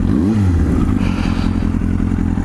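A motorcycle engine is revved a few times before a ride on freeways and twisty roads, loud and close, with a rising growl that settles into a steady, rumbling idle.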